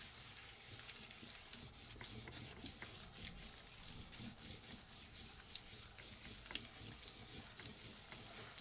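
Steady, dry rubbing and scratching as a Sizzix stencil is pressed down onto paper by hand, a continuous close rasp with small irregular ticks and no talk.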